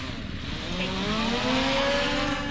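A drone lifting off from a boat gives a steady buzzing whine that climbs in pitch as it rises, under a constant broad wash of wind or engine noise.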